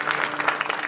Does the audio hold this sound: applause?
yes